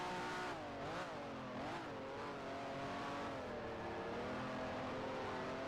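Race car in a sim racing game with its rear tyres spinning up, a loud continuous engine roar rising and dipping in pitch with wavering harmonics, no talking.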